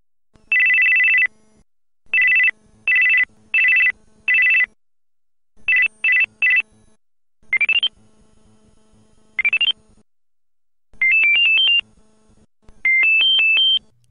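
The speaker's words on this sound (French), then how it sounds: "je vous propose de découvrir quelques petites sonneries de ce modèle" Panasonic GD90 mobile phone playing a series of short electronic ringtones: repeated bursts of bright two-tone chirps, then rising and stepped melodic beeps, clear and close with brief silences between.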